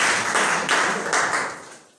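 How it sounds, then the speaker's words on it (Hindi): Brief burst of enthusiastic hand clapping welcoming Rohtash sir at a coaching class gathering, several close rapid rounds of applause fading out over two seconds. "रोहतास सर ने काफी हमारे हेल्प की भाई, मैं भी उनके लिए एक बार जोरदार तालियां से स्वागत करूंगा।"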